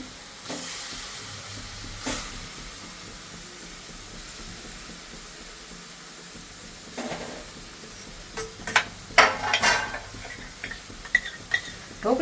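Kathiyawadi dhokli pieces dropped into a simmering spicy gravy and stirred, with soft bubbling, scraping and clinks of a spoon against the pot growing busier toward the end, no talking.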